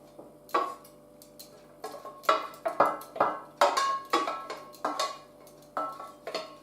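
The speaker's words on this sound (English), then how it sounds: "So I'm throwing all that into the saucepan." Chopped onion and crushed garlic tumble into a saucepan in a string of clattering knocks and scrapes of spoon against pan, irregular and close, with no voice over it.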